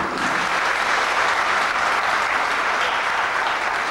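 A crowd at an arts awards ceremony breaks into loud, sustained applause, many hands clapping close and steady in a continuous roar that never lets up over the whole stretch.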